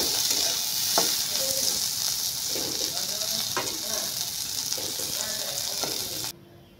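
Bitter gourd with onion and chili sizzles steadily in a pan, with a dense hiss throughout and a few soft knocks from stirring, before cutting off abruptly near the end.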